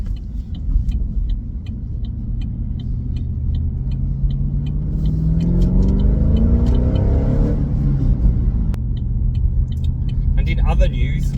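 Engine of a 2016 HSV GTS with a manual gearbox, revving on a dyno: a loud, steady rumbling drone that rises in pitch through a long pull and then drops away, with talking over it.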